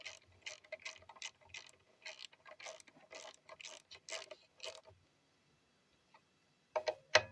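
A wrench ratcheting as fork bolts are nipped up on a Triumph Bonneville 865 EFI alloy fork slider, quick bursts of close, crisp clicking, a pause, then a short final burst.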